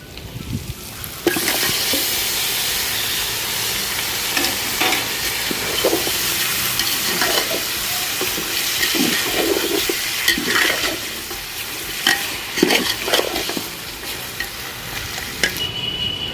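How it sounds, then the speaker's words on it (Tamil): Washed chicken pieces hit a hot pan for Chinthamani chicken, setting off a loud, continuous sizzle broken by repeated scraping stirs of a spoon against the pan. "இப்போ கழுவி சுத்தம் பண்ணி வச்சுருக்கிற சிக்கனை அதில் சேர்த்துக்கலாம்."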